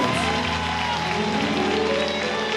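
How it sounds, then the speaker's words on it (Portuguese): A church congregation applauds in praise during a worship service, a dense continuous wash of clapping mixed with voices and a sustained musical tone underneath. "E aplauda ao Rei Jesus"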